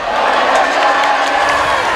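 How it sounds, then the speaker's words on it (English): Wayne County fans singing in the stands at a high school football state championship game, a dense, steady crowd roar with voices blended together throughout and no single voice standing out. "the Wayne County crowd singing "No, no, no, goodbye" right now"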